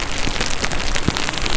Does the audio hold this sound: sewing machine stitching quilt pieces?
no